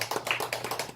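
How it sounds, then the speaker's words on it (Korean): A church audience applauds a deacon, a brief burst of scattered hand claps that sounds fairly close but soft, with no talking over it. "우리 박수 한번 주세요."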